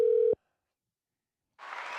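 A loud, clean telephone dial tone sounds for about a third of a second, then cuts off sharply into silence before a faint hiss of an open line comes in.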